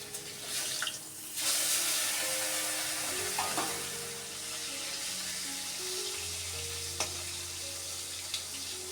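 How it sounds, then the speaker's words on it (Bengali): Tilapia fish frying in hot oil, a fairly quiet continuous sizzle with a few light clinks and a low steady hum in the background. "অনেক কষ্টে আর কি ভাজলাম ভালোভাবে তেলের মধ্যে"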